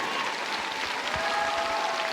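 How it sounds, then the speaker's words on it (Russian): An audience applauds in a figure skating show arena for skater Kamila Valieva, a steady wash of clapping from a large crowd heard at a distance. "Камила Валиева! Ваши аплодисменты!"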